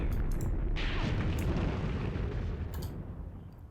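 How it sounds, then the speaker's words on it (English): A close artillery shell blast in the Graviteam Tactics war game sends out one loud, broad boom whose rumble keeps booming and slowly fades over several seconds, with faint crackles breaking through near the end. "A shell landed right next to this gun."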